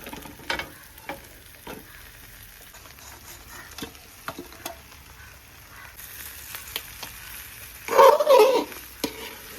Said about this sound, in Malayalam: ഇതിനകത്തോടെ ഇനി നമ്മൾ മീൻ ചേർത്ത് കൊടുക്കുകയാണ്